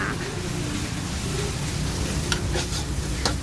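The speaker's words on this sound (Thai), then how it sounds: "ใส่เนื้อลงไปผัด" Beef stir-frying in red curry paste and coconut milk, a dense, steady sizzle close up with a few light scrapes of a utensil against the pan, no voices.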